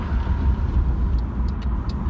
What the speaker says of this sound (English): Traffic's loud.